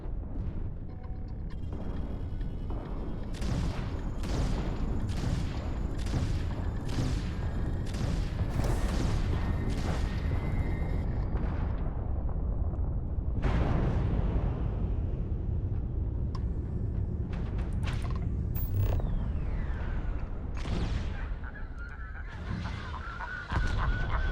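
Spaceship weapons in Starfield fire in a rapid series of sharp bursts over a constant low engine rumble, followed by scattered louder blasts and a hum that rises and falls.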